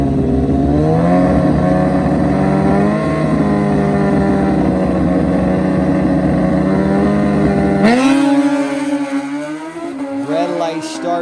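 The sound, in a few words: drag racing motorcycles launching down the strip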